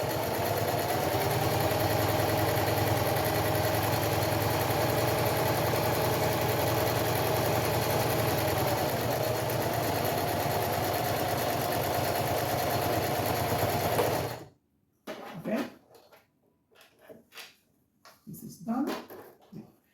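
A sewing machine with a regular presser foot runs steadily through two layers of fabric and batting, a loud continuous motor whir for about fourteen seconds that stops abruptly, followed by a person talking.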